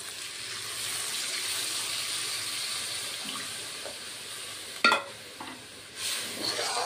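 Water poured into a pan of frying potato and paneer masala, giving a steady hiss and sizzle with a couple of sharp clinks and stirring scrapes near the end.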